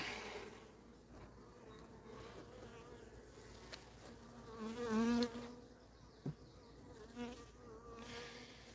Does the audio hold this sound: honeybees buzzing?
yes